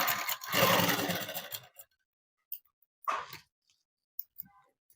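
A sewing machine stitches fabric for a young child's dress, a dense close run of about a second and a half, followed by a shorter burst and a few small handling clicks.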